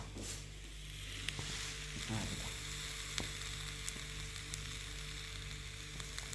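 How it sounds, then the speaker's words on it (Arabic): Eggplant slices fry in a little oil in a pan with a soft, steady sizzle that runs throughout, faint and even, broken by a few small clicks and a light scrape. "دوك نحمسهم هكذا غير بشويه تاع الزيت"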